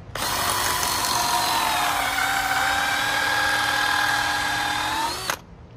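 A power drill bores into the rear end of a 1989 Mustang GT during a rear bushing replacement, a loud steady whine held for about five seconds before stopping abruptly.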